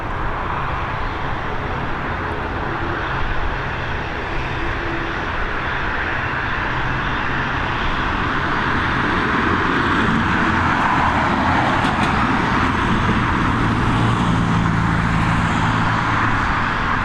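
An ATR turboprop airliner rolls and takes off at Dublin Airport, a steady loud broadband engine roar filling the whole stretch without breaks, heard from a spotting position with no talk.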